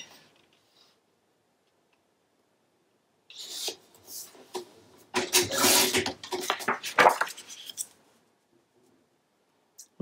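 Scissors trim a little off a paper edge for a Graphic 45 mini album, a few close snips and rustling paper rubs after a quiet start.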